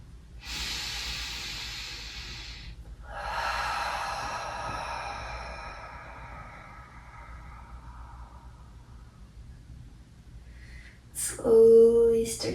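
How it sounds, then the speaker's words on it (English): A slow, deep breath during restorative yoga under a sandbag: a long airy inhale and a longer fading exhale, close and soft, followed by a brief louder sound near the end. "Stay for one more nice deep breath"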